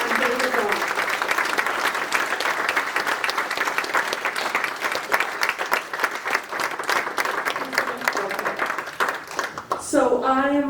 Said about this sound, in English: And if we could give a round of applause to Mr. Nick Donofrio and David Don.